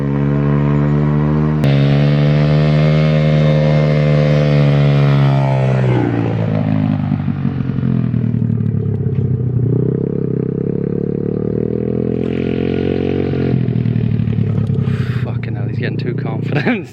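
A Welsh pit bike 125cc is ridden with a loud, close engine drone. The pitch climbs and then drops sharply at each gear change, with several shifts one after another.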